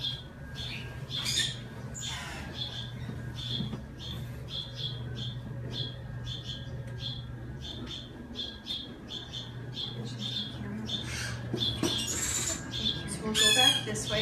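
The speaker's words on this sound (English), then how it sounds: "get out of the loud bird noises" Birds at a wildlife rehabilitation center give loud, repeated squawks in quick irregular bursts close by, over a low steady hum, with some voices in the background.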